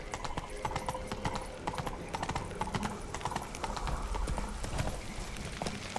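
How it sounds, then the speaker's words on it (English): Horse hooves clip-clop steadily on the ground in The Witcher 3 on PC, a continuous even trotting rhythm of close, moderately loud footfalls with faint background ambience. "Whoa there, Roach"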